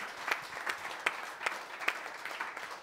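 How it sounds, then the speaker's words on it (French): Scattered, light applause from a small studio audience during a French televised foundation event on ecology; a few sparse claps at moderate distance, thin and brief rather than a full ovation. "On peut l'applaudir, c'est quand même sympa."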